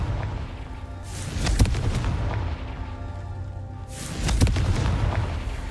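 The Confringo fire spell in Hogwarts Legacy goes off as two loud, booming explosions a few seconds apart. Each one is a sharp burst followed by a deep rumbling roar, with a low crackling hum between them.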